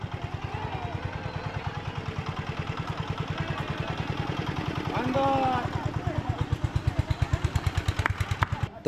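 An auto rickshaw engine runs close by with a rapid, even putter that thumps steadily, while people talk over it on a trip near Kolkata.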